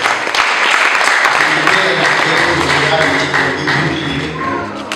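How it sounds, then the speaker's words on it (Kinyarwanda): A crowd clapping loudly and continuously, a dense wash of applause that tapers slightly toward the end. "mwikomeye amashyi muzayakora"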